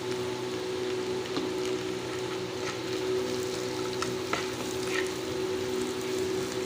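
Small onions with asafoetida sauté in a pan for sambar, a continuous close sizzle and crackle of frying oil with occasional soft stirring, no talking.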